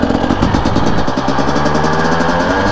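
A 2018 Husqvarna 250 motorcycle engine idles with a steady, close, even throb and faint mechanical rattle, no voices over it.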